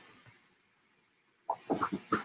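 Dog shifting and moving about indoors during a live sale, a few soft close snuffles, thumps and breathy rustles after a quiet stretch.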